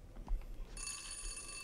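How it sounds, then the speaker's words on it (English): A telephone rings in the video game Dead Island 2, a bright electronic trill that starts partway in and holds steadily over faint room tone, no talk. "Phone!"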